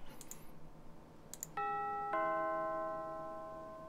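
A two-tone chiming doorbell sounds in an 8-bit detective video game, first tone then a second overlapping ring that decays slowly, preceded by brief faint electronic blips against quiet background hum.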